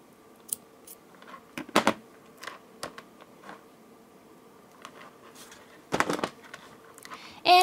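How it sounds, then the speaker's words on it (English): Scissors cutting thread while making a bone pendant necklace with lava stones: a few sharp, close snips and clicks separated by quiet gaps, with a louder cluster near the middle and another toward the end. "Now, I will take the scissors, cut the thread,"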